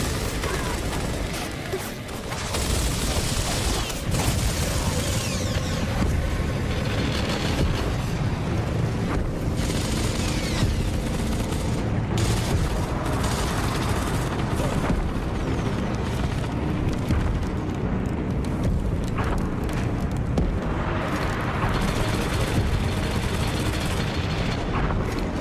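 Soldiers come under ambush in the Gears of War shooter game, with a dense, continuous roar of gunfire, blasts and booms from the battle filling nearly half a minute at high, steady loudness.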